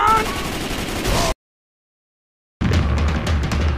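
Automatic gunfire in Left 4 Dead 2 during a versus match, loud rapid bursts that cut out abruptly to silence and then resume, with shouting voices mixed in.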